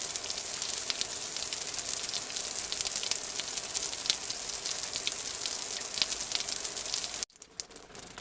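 Rain pours steadily on a mountain hiking trail on Mount Ciremai, heard from shelter under a bivouac: a dense, constant hiss of drops that drops abruptly to a quieter patter near the end.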